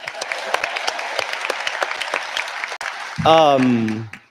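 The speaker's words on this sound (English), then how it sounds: "let's just give them a round of applause for that" Clapping from a graduation ceremony audience rattles for about three seconds, then a loud, sustained voiced call or cheer rises over it before cutting off.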